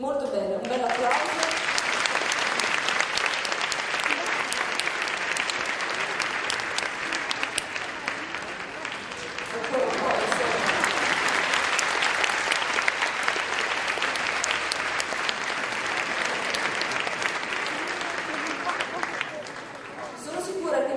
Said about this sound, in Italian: Molto bene, un bel applauso.